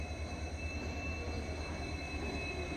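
The Dadar–Tirunelveli Express runs on the Satara–Miraj–Kudachi rail line, a continuous steady rumble of wheels and carriage noise with a faint high whine, heard from on board with no voices.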